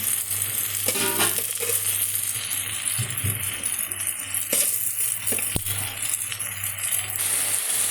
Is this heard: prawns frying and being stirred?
yes